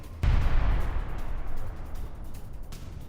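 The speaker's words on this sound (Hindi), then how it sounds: "रूसी ठिकानों पर ब्रिटिश आर्टिलरी से अटैक किया गया है।" A British AS-90 artillery gun fires a single heavy, distant-sounding boom, followed by a long, low rumbling decay that fades slowly across the rest of the clip.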